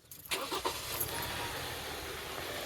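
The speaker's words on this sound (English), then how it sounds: "We definitely still have a misfire" A 2016 Kia Sorento engine runs with a misfire on cylinder 4, a steady close mechanical drone after a couple of sharp clicks at the start, with no voices.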